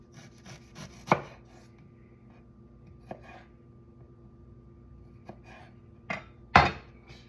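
A knife cuts a small sliver of ginger on a board during sea moss prep, making a few sharp, isolated chops and taps spread across several seconds, close and otherwise quiet.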